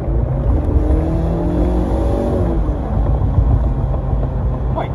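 A 2018 Ford Mustang EcoBoost convertible accelerates, its engine note rising steadily under strong road and wind rush from inside the open car, continuous and loud throughout.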